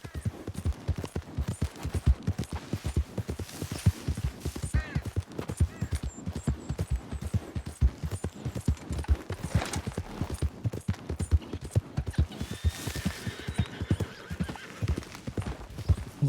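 Hooves gallop in a fast, steady rhythm close by, with a horse whinnying loudly partway through, in Red Dead Redemption 2.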